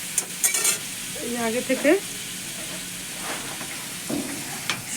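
Spiced egg curry masala sautés in a pan after turmeric is added, a close, bright sizzle with stirring clatters, while a person speaks briefly over it.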